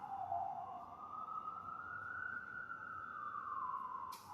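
A single siren wails in one long, slow rising and falling sweep, somewhat distant and steady against low background rumble.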